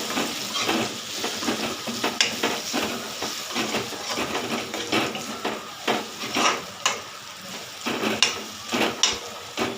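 Crab fry with chili powder is stirred in a pan: a steady sizzle runs under repeated, irregular scraping and clattering strokes of a spoon against the metal, close and fairly loud.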